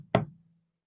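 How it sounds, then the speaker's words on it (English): A single sharp knuckle knock on a hard surface, close and crisp, with a short dull ring dying away into silence. "There was a knock at the door."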